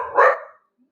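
A dog lets out a single loud, close bark that ends abruptly, followed by silence.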